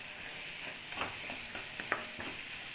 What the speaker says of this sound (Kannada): ನೋಡಿ, ಇದೆಲ್ಲ ಚೆನ್ನಾಗಿ ಫ್ರೈ ಮಾಡ್ಕೋಬೇಕು